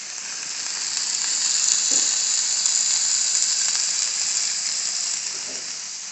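Spicy chicken breast sizzles steadily in a pan, a continuous bright frying hiss with a couple of faint clicks, close and even throughout.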